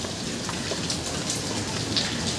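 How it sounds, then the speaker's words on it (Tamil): Heavy rain falls steadily in Chennai, a dense, continuous hiss with no pauses and no voices. "இப்போ கொண்டாந்து கூட எவ்வளோ மழை பெஞ்சுது."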